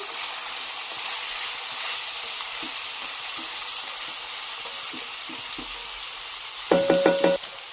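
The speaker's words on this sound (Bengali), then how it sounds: "তো ঢাকনাটা খুলে আমি আরেকবার নাড়াচাড়া করে দিচ্ছি।" Dal stirred in a pan over low heat after the lid comes off, a continuous gentle sizzle with soft scattered stirring taps, then a brief burst of metallic clicks near the end.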